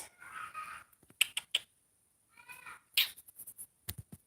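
A house cat gives a few short, quiet meows spread across a few seconds, separated by silence and interrupted by light tapping and rustling close by.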